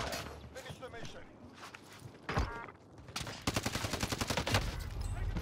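Gunfire in the video game Call of Duty: Warzone, with one sharp, heavy rifle crack standing out mid-clip amid scattered shots and a later burst of rapid automatic fire, while voices talk throughout.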